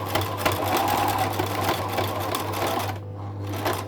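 A sewing machine runs a small zigzag stitch forward and back in one spot on washable fabric for a mask, a close rapid mechanical chatter with a steady motor hum, briefly easing near the end before resuming.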